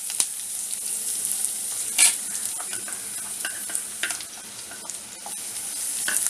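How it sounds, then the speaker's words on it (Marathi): Onion sizzling in hot oil with curry leaves for a dhaba-style chicken masala: a steady, close, bright frying hiss throughout, broken by occasional scraping stir strokes and crackles. "आता मी हा कांदा टाकते,"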